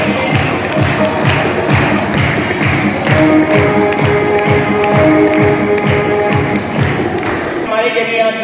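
Audience at a school prize distribution clapping in steady unison for the principal, a loud, regular beat of claps about two per second that runs throughout, with faint tones in the background.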